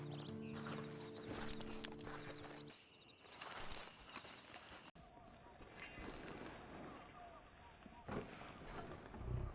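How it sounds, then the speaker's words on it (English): Hooves clip-clop at a walking pace while a horse is ridden in the Western video game Red Dead Online, with a horse whinny and ambient game sounds around them, partly under speech. "And you better get on this horse."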